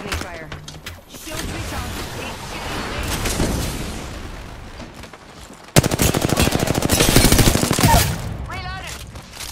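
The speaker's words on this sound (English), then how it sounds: "Shoot at me. Fire. Shield recharge. He's shooting me." Video game gunfire in dense bursts, a quieter stretch of rapid shots followed by a sudden louder, sustained volley of automatic fire.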